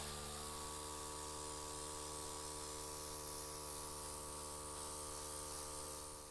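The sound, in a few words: airbrush spraying base coat onto resin scrap pile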